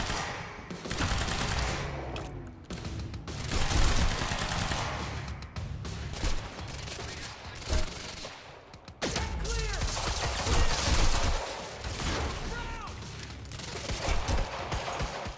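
Gunfire in the video game Quantum Break, with dense bursts of automatic shots and fusillades that come in waves, loud and close, with brief lulls between volleys.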